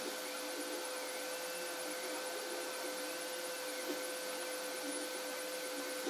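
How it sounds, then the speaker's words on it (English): A 3D printer with an E3D V6 hot end and a belt drive runs steadily, giving a constant mechanical hum and tonal whine. Small irregular knocks from its jerking motion sit faintly over the drone, with no talk. "Now the printer does jerk a bit"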